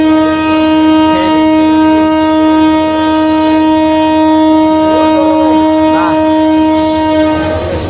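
The 781 Kishorganj Express blows a long, loud, sustained horn as it pulls into Kuliarchar railway station, a steady tone lasting several seconds over rolling rail noise, with no one speaking.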